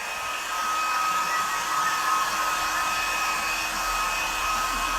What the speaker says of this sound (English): I'm just going to put my hairdryer on.